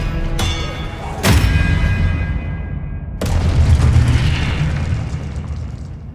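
Expelliarmus disarming spell cast in Hogwarts Legacy on PS5: a sharp magical burst lands with a heavy boom, then a second booming impact follows a couple of seconds later, each trailing into a crackling, rumbling tail.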